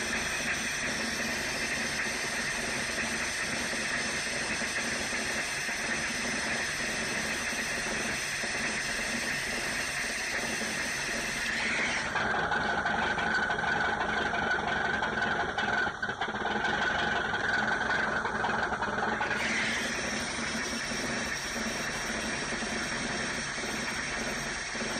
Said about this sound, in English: Alright, it's going to be noisy, but you're supposed to increase your idle a little bit when you do this.